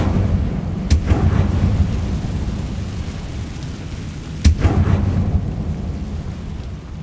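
In Hogwarts Legacy, an Incendio fire spell is cast twice, each one a sharp crack followed by a loud roaring, rumbling burst over a constant low background.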